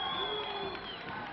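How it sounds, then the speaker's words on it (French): An arena audience at a French professional wrestling match gives off a dense, continuous wash of crowd noise, cheering and scattered applause, with a high voice-like tone gliding over it. "Le public applaudit"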